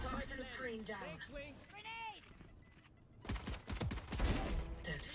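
Gunfire in the Valorant tactical shooter: a few sharp shots and short bursts, loud and close, mixed with in-game effects and voices talking over the action.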